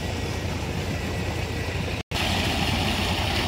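Water pump motors at the Amaravati iconic towers site drone steadily, with a continuous dense broadband hum and a momentary cut in the middle before the running resumes.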